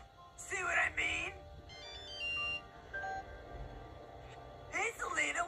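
A phone ringtone plays a bright electronic melody in repeated bursts, with short tonal phrases between them, fairly close and clear over a quiet background.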